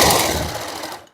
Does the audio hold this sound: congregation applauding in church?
no